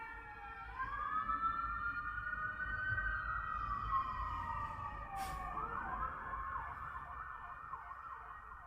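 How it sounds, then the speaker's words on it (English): A siren wails past with rising and falling tones, fairly faint and distant over a low rumble of traffic, fading slightly toward the end. "There's a siren going by."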